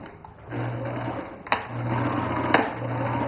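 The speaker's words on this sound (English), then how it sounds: "I'm going to sew the zipper with a straight stitch" A sewing machine running a straight stitch along a zipper, a close, steady mechanical whir with short bursts of stitching separated by brief pauses and a couple of sharp clicks.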